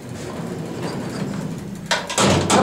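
A vintage Westinghouse elevator door in a student union service area slides with a rising screech and then closes with a couple of loud bangs near the end, after a stretch of low ambient hum.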